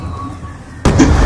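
A single loud, abrupt gunshot blast from Call of Duty: Black Ops 2, bursting suddenly after a quiet hum and ringing on briefly, close and dominant.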